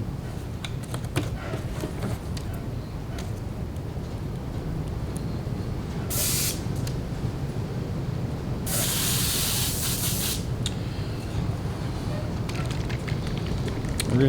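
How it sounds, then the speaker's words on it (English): A spray gun is rinsed out between coats while painting a crappie-pattern lure, giving two sharp bursts of airy hiss, one short and one longer, over a steady low background hum. "Rinse out our gun one more time."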